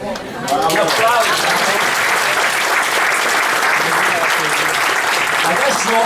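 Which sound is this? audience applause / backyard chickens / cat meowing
audience applause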